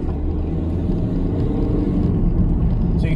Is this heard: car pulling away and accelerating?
yes